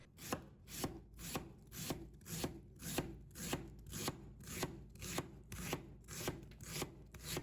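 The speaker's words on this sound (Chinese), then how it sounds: "再切成细丝。" A knife slices an onion into thin strips on a cutting board, a fast, even run of sharp close chops, roughly three per second, with nothing else heard.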